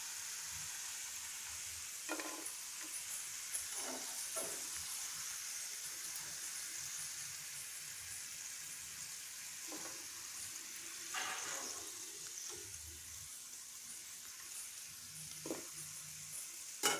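French fries frying in hot oil, a steady close sizzle with occasional bursts of crackle and brief stirring noises, heard alone without talk.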